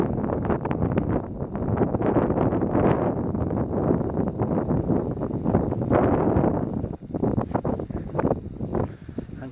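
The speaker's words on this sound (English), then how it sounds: "it's a slightly windy day here" Steady gusting wind buffets the microphone on an open hillside path up Moel Famau in North Wales, a loud continuous roar with a brief lull near the end.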